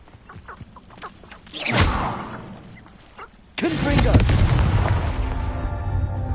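A Confringo fire spell explodes in the Hogwarts Legacy video game. A rising whoosh is followed by a sudden loud blast that rumbles on through the rest of the moment, with a spoken voice at the start.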